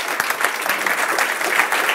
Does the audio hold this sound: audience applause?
yes